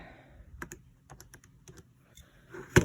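Close, light clicks of keys pressed one after another on a calculator, a quick irregular run of soft taps ending in one louder press.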